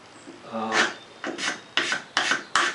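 A hand scraper shaves across a wooden surface in about five firm, rhythmic strokes, each a close, dry rasp with a sharp start, heard alone without talk.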